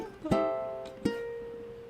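Two plucked guitar notes ring out one after another, each with a crisp attack and a sustained, harmonically rich tone, soft and close, with no talk.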